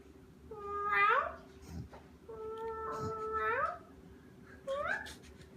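A person imitates a cat meowing, three drawn-out rising-and-falling meows in a row, the first two long and loud, the last shorter, close up against a steady low background hum.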